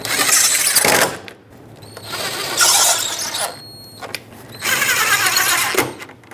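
Power screwdriver driving the top torque screws into a fog light bezel on a 2010-2017 Chevrolet Equinox, three loud whirring bursts with short pauses between them, close up.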